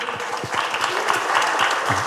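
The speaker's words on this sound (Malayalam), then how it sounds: "ഞാൻ ഒന്ന് കൈയടിച്ചേ" An indoor audience at an awareness class claps steadily and fairly loudly for a couple of seconds, a dense patter of many hands close by, with a voice briefly audible underneath.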